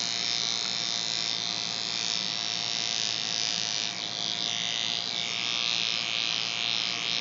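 An electric shaver with disposable heads buzzes continuously at close range in a laser aesthetics clinic, a steady high-pitched hum with slight changes in tone as it moves over skin.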